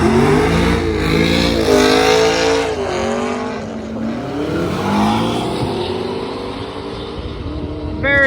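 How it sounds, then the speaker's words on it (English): A McLaren launching at a drag strip event, its engine roaring loudly and rising through several gear changes as it pulls away, with a faint fizzing note near the end. "let's see what our McLaren can put down here."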